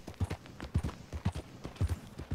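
Horse hooves clip-clopping in the video game Red Dead Redemption 2, a steady rhythmic walking gait of soft paired thuds, fairly quiet and with no talk.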